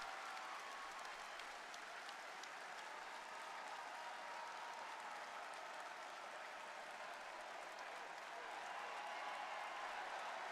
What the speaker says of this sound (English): Let's hear it for Cam.